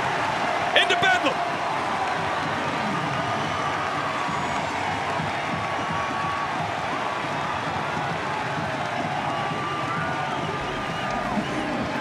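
A 3,000-strong crowd at a college men's soccer match, Clemson against Indiana, erupts after an equalizing goal, a broad sustained roar of cheering and noise filling the stadium from a distance, with a brief louder burst near the start.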